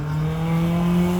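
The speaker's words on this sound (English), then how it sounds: "The car's not going very fast, but it sure does make a lot of noise" A car engine drones loudly and steadily at close range, a low hum with a strong tonal layer, even though the vehicle is moving slowly.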